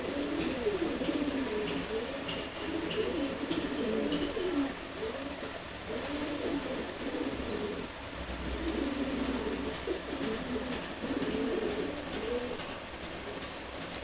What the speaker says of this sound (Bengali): খুবই সুন্দর একটা নর কবুতর